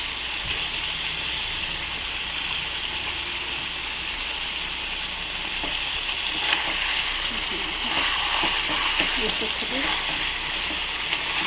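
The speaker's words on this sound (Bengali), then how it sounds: "এই এতে আমি এবার আস্তে আস্তে মাছগুলোকে ছেড়ে দেবো। ছেড়ে দিয়ে মশলার সাথে কিছুটা কষবো।" Pieces of katla fish fry in mustard spice paste, making a continuous dense sizzle and hiss throughout, growing a little livelier with bubbling crackles toward the end.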